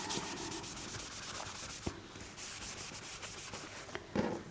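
Paper being rubbed and smoothed by hand onto a junk journal page, a soft continuous brushing and rubbing with a few light taps, close and quiet, with no talk.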